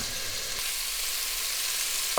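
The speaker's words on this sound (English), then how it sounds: "We start with the prosciutto. Oh, you see, already do zzz." Prosciutto sizzles in a frying pan for a rigatoni cream sauce, a steady close hiss of frying fat that runs throughout, with a brief clink near the end.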